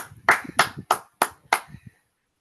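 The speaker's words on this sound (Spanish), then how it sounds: "un aplauso para la hermana" Five sharp, evenly spaced hand claps in a church leadership class, close and distinct with short pauses between them, then silence.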